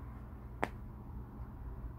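A single sharp click as a thick embroidery needle pulls a knotted thread through fabric, made while stitching a big rose embroidery tumbler kit; one brief snap over a quiet low hum.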